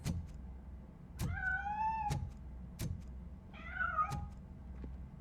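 A cat meows in the video game Robocop Rogue City, two clear, drawn-out meows about two seconds apart, fairly close, between sharp mechanical clicks over a low background hum.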